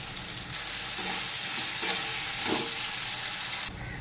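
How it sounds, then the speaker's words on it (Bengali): Onions fry in hot refined oil in a kadai for a kasuri methi chicken dish, giving a steady broadband sizzle with a few brief stirring clinks, fairly close and continuous, easing off near the end. "এবার পেঁয়াজগুলোকে একটু ভেজে নেব"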